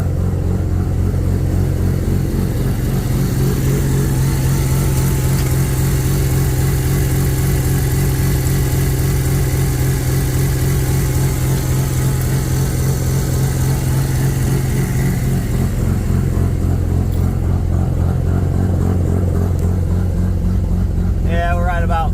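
A big turbo Mazda RX-7 rotary engine idling high after a cold start, a loud, steady, choppy low pulsing close by, with a voice briefly heard near the end.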